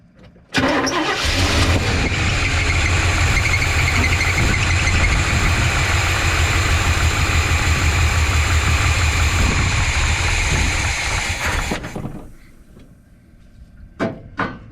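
A 1985 GMC C25 truck engine cranks and catches, then runs loud and rough for about ten seconds before cutting off, followed by a couple of brief knocks.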